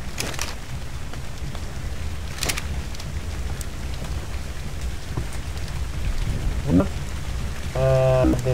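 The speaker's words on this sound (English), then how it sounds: "Can it at least stop raining?" Steady rain pours throughout in the video game ARK, a continuous hiss with a couple of brief sharp knocks and a short tonal game sound near the end.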